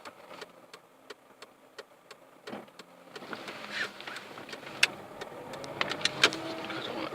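A car drives up a road, its engine growing louder from faint and distant to a nearer, steadier rumble with small clicks and knocks on top.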